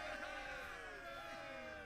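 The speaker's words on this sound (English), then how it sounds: "Oh, wow, they're cheering." Crowd cheering and whooping from an army in Age of Empires III, a steady dense roar of many voices with layered tonal game sounds, loud and continuous throughout.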